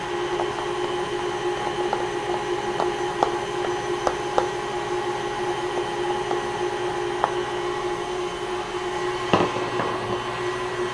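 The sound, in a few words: electric mixer beating alfajor dough with egg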